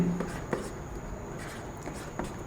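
Chalk or marker taps and scrapes across a classroom board while a chemistry formula for potassium permanganate is written, giving short irregular strokes over a quiet room hum.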